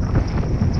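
Wind buffets the microphone with a loud, steady low rumble during a night fishing trip for trahira by the water, with no voices.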